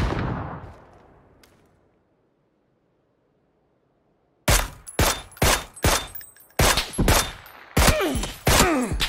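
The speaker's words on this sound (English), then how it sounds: "Getting shot from both sides." PUBG gunfire arriving from two sides: after a decaying thump and near-silence, a rapid series of loud, sharp shots crackles in close bursts, some quick doubles, with no voices.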